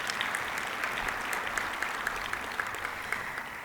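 Audience applause fills a banquet hall for the Giants' 2017 scholarship dinner, a steady wash of many hands clapping at moderate distance, sustained without talk over it.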